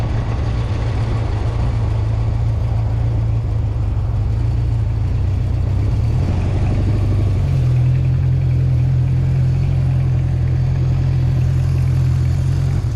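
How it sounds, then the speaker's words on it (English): A 1976 Honda CB750F motorcycle engine idles steadily and close, a deep continuous rumble that shifts pitch slightly partway through. "Bike sounds very good."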